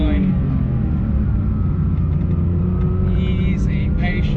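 A Porsche 911 GT3 Touring accelerates hard out of a corner on track, its engine a loud, steady roar building in pitch across the whole stretch, heard from close by with no talking.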